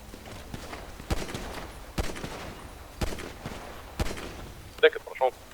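Gunfire in a 1990s-themed GTA roleplay game: single shots about once a second, sharp and moderately loud, followed by a couple of closer cracks at the end, with voices talking throughout.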